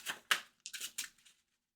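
A deck of trading cards is riffled and tapped in a few quick, crisp bursts of papery flutter, close and quiet, ending in silence.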